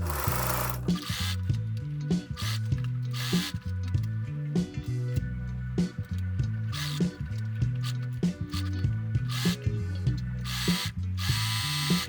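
A sewing machine stitches the seams of a jumpsuit, close and loud. Its needle chatters in a steady rapid rhythm, with brief pauses and restarts as the fabric is moved.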